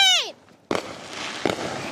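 Fireworks pop and burst in the distance in two sharp cracks followed by crackling rumble, after a brief high excited voice at the start.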